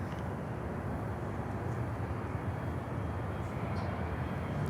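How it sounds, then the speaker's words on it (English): A distant MD-83 jet aircraft gives off a low, steady, faint broadband roar, unbroken throughout, with no voices. "There we go. MD-83."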